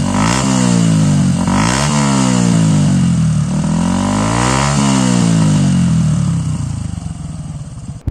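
Motorcycle fitted with an Akrapovic slip-on exhaust revs hard in repeated loud surges, engine pitch rising and falling through several throttle blips before settling toward idle, close and with no talk.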